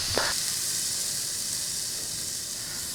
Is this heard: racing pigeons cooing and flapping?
no